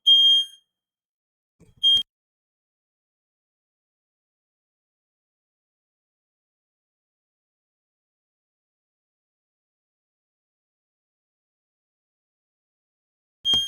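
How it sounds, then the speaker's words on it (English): Household smoke detectors set off by cooking chirp in short, sharp, high electronic beeps, three brief bursts spaced far apart with long silence between, fairly faint and with no talk. "all my fire alarms are going off"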